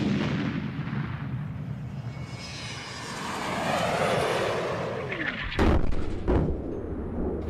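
A rocket sled firing on a test track, a loud roaring rush that builds and sweeps through, then sharp booming cracks near the end, with no voices.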